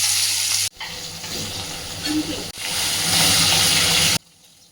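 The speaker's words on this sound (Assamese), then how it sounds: "মাছখিনি বলক ভাজি লওঁ ধুনীয়াকৈ।" Fish pieces rubbed with salt and turmeric frying in hot oil on a gas stove, a loud, close, bubbling sizzle with stirring, broken by two brief cut-offs and ending abruptly.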